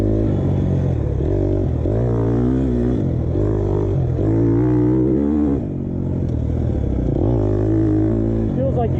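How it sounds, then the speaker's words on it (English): 2020 KTM 250 XCF dirt bike engine revving quickly in a loud, close, continuous buzzing roar with repeated rises and drops in pitch as the throttle is worked on a test ride. "And I can barely give it gas. It revs out."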